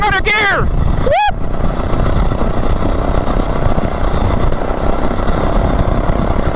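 A fast homemade lawn mower's small engine buzzes loud and close at high revs without a break, and brief excited shouts rise over it near the start.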